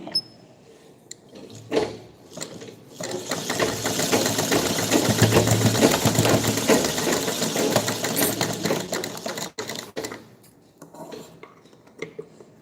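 A sewing machine runs in one continuous stretch of stitching for several seconds, fairly close, with quiet speech and household clatter before and after.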